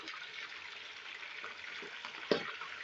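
Chicken hits hot oil seasoned with cumin seeds, giving a soft, steady sizzle and frying hiss, with a brief clatter as the pieces go in.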